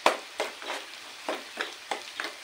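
Spring onion whites fry in a pan for gobi manchurian, heard as soft, rhythmic bursts of sizzling and stirring, repeating roughly every few tenths of a second with no talk.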